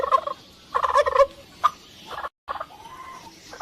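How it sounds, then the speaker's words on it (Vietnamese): A turkey gobbles in several loud, rapid rattling bursts, with a short pause and then a softer warbling call near the end, heard alone without any voices. "Con gà tây."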